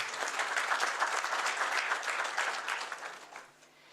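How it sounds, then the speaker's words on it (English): A round of applause at an annual general meeting, a fairly distant audience clapping steadily for a few seconds before it thins and fades. "Maybe we can just give ZIMRA a round of applause."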